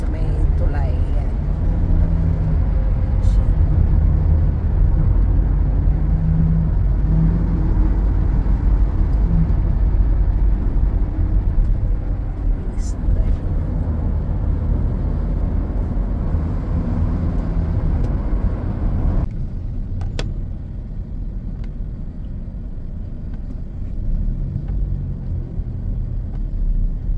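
Highway traffic in Thailand from inside a moving vehicle, a loud steady low road rumble with engine drone that thins toward the end, with people talking over it throughout.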